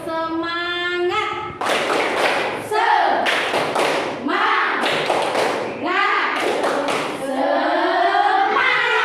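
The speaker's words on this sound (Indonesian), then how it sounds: "kita tepuk semangat dulu biar semangat mengerjakannya ya" A class of children stands and does the rhythmic tepuk semangat clapping chant, sung voices alternating with bursts of loud unison claps in a steady pattern, close and lively.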